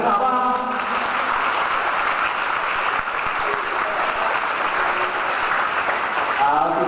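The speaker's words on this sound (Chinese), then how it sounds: "我们大家给他们掌声好不好？" A school audience applauds students and their teachers, a dense, even wash of clapping that holds at a constant loudness throughout, like a steady rain of hands.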